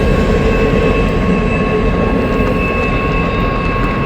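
A passing intermodal freight train rumbles loud and close in a steady heavy roar. A sustained high metallic squeal runs through it from start to end.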